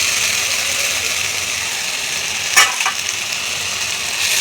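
Okra drops into a hot pan of spiced masala with sugar and sizzles loudly, a steady close frying hiss that flares in a short sharp burst midway before settling back.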